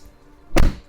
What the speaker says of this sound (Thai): กลึบมากนะครับ ประตูกลึบจริง ๆเลยนะฮะ